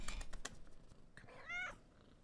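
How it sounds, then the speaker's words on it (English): A female cat close by makes a brief meow-like vocal with purring, preceded by a few soft tapping clicks. "You can hear her purring."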